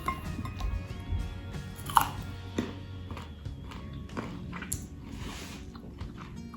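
Close biting and chewing of a large fresh peach, with a sharp crunchy bite near the start and steady wet mastication continuing throughout, with no talking.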